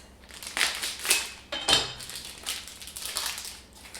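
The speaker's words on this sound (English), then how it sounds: "We'll cut up a little Swiss." A block of Swiss cheese being cut up on a board for a snack plate, a few short crisp knife strokes and crinkling bursts separated by brief pauses, close and fairly quiet.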